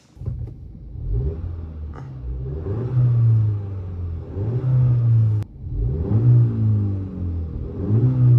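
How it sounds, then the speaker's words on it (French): A 2025 Volkswagen Polo GTI hot hatch engine revs up and down repeatedly with a throaty exhaust note, heard from inside the cabin, steady and fairly loud. "depuis l'intérieur, on entend bien le moteur et l'échappement"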